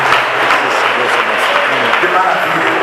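A church congregation applauds during an evening service, loud, dense continuous clapping close by, filling the room without a break.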